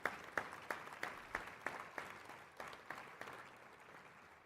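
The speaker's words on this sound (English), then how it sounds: "a big round of applause for our panelists this afternoon." Applause for panelists at the close of a supply-chain panel session, sparse and faint with individual sharp claps standing out in a slow, uneven rhythm that thins over the few seconds.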